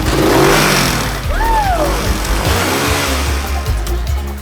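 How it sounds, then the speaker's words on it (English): A car engine revved up in a loud, close burst, the pitch sweeping upward and falling back before settling into a rough, steady rumble. "Rev it up a little."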